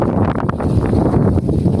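A strong outdoor gust buffets the microphone beside a stone-slab walkway being laid, giving a loud, rumbling, uneven roar that fills the moment with no speech.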